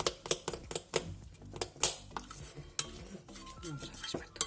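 Panettone dough mixed by hand in a bowl, with quiet irregular clinks, taps and scrapes of a utensil against the bowl.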